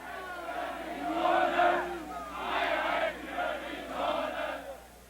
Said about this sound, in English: Crowds gather on the west side to taunt the East German soldiers as they build the wall.